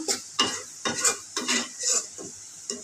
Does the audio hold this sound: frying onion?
yes